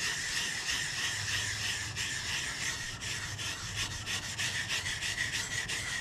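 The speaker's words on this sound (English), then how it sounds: "I'm scrubbing it" A stiff brush scrubs rust off old woodworking machinery, making a steady, continuous rasping hiss with moderate pressure, close and alone without talk.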